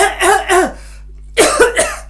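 Several people cough together during a guided group relaxation exercise: two hoarse bursts, a brief pause, then another pair of coughs, fairly close and loud.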